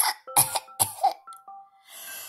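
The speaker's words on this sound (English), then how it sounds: "the old rabbit was coughing very badly." Old rabbit coughing badly, a series of harsh, close coughs and throat-clearing bursts in quick succession, followed by a softer breathy tail.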